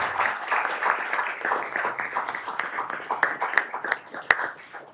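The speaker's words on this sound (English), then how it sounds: "Let's give a round of applause to show our appreciation." A smaller audience at an academic humanities event gives a round of applause, with uneven clapping at moderate volume and a few sharp, distinct claps near the end.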